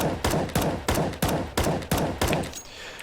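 Seven evenly spaced gunshots ring out loud and close in Counter-Strike on the Inferno map, each a sharp crack with a short echoing tail.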